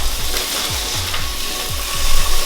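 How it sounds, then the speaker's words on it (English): Ground beef searing in a pan after sitting in a guajillo chile and garlic marinade, giving a steady loud sizzle with repeated scraping stirs at a regular rhythm. "We're just gonna go ahead and sear off the ground beef."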